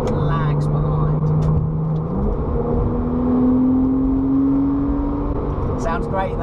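Porsche 996 Carrera engine accelerating, a close steady engine note climbing in pitch after a gear change, heard from inside the car.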